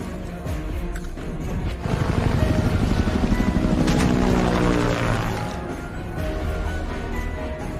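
An airplane sound effect in a cartoon, with a propeller drone that swells, chops steadily through the middle and then fades, loud and with no talking.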